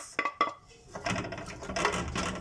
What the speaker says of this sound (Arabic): وهقلب في البصله دي لحد ما تتبل معايا خالص